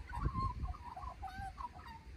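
A large fluffy bird calls in a run of soft honking, warbling notes close by at an Australian hot springs resort, over a low rumble of background noise.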